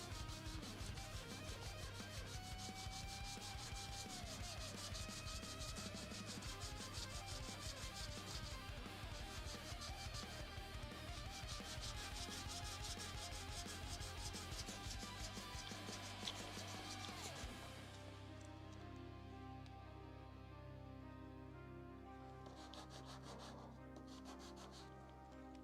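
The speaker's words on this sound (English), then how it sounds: "I know I'm sanding this." Steady abrasive rubbing and rasping of sandpaper on a small Kritza the Rat Prince miniature, dense and continuous at close range, easing somewhat in the last few seconds.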